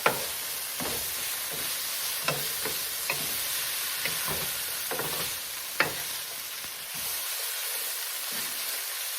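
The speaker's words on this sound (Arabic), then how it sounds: "الخضره هسه نخلطها مع بعض." Onion and red and coloured bell peppers are stir-fried in a pan for chicken quesadillas, giving a continuous close sizzle broken by repeated clacks of a utensil stirring and scraping.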